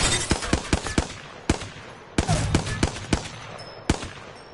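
Hemlok rifle in a video game fires bursts of sharp gunshots in uneven clusters, loud and close, with short pauses between volleys.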